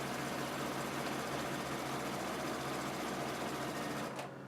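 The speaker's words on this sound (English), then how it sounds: "sew your exact 1/4 inch" A sewing machine stitches an exact quarter-inch quilt seam, its motor running in a loud, steady, continuous whir for about four seconds before it abruptly stops. No one speaks.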